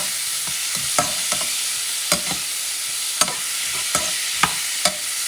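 Chopped Roma tomatoes sizzle steadily in a frying pan while a spoon stirs them, making sharp scrapes and taps roughly every half second to a second, close and clear, with no talking.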